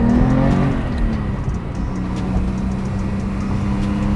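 A manual Porsche 911 GT3 accelerates hard through a tunnel, its engine a loud, sustained, echoing drone heard from inside the car at steady volume with no talking.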